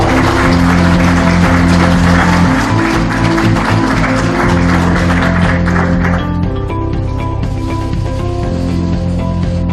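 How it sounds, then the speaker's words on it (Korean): Applause fills a hall at a Democratic Party leadership candidate rally in Gangwon, welcoming a candidate to the stage. It is loud and continuous over steady, tonal background music, then thins somewhat toward the end. "뜨거운 박수로 맞아주시기 바랍니다"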